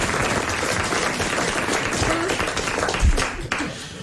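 A studio audience on a French radio comedy panel show applauds with a brisk, dense burst of clapping that fades toward the end, with voices mixed in.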